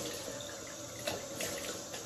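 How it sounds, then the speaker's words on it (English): Cold water running steadily from a bathroom tap into a sink after a shave, a soft, even hiss and splash with no talking. "All right, cold water."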